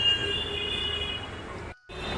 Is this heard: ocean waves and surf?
no